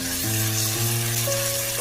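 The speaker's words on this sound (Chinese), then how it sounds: "油热之后把洋葱加进来，把肉丁也加进来，翻炒出洋葱的香味" Diced onion and cubed meat stir-fry in hot oil in a wok, giving a steady, close sizzle with faint clinks from a spatula.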